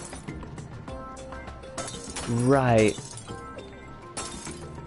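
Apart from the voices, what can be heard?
breaking glass sound effect from a felt box in LittleBigPlanet 3 (video game)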